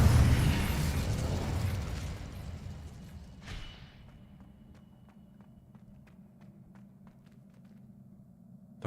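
The Incendio fire spell bursts loudly in Hogwarts Legacy, a roaring blast that fades over a few seconds into quiet, sparse clicks and footsteps.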